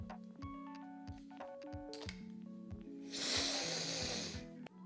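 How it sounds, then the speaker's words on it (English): A rubber-ball perfume atomizer gives one steady airy hiss of spray lasting about a second and a half, close and fairly loud, over a soft tonal background. "it's definitely a ball sprayer"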